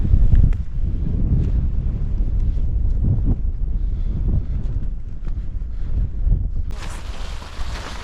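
Strong wind on a coast near Hållö lighthouse buffets the microphone in a constant low roar and rumble, with gusts rising and falling, loud and close, with no talk.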